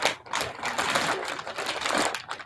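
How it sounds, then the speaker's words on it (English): A sewing machine runs steadily as it stitches down the side of a tote made from a feedbag, a rapid rattling needle chatter that continues without pause. "I'm going to sew down this side."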